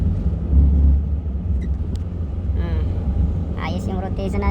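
A Toyota Avanza's engine hums steadily with low road rumble while driving, heard from inside the car, with someone speaking briefly over it.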